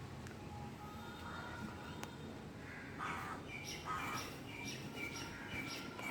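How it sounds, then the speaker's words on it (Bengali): Birds, crows among them, call after rain in a faint, distant scatter of caws and squawks over a low outdoor background. "পাখিগুলো ডাকছে সব"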